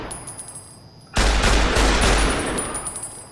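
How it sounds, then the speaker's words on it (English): A survivalist rifle, resembling an AK-47, fires in a video game: after a quiet moment a loud burst of rapid shots erupts close by and rings on for a couple of seconds, with no talking. "Okay, survivalist rifle."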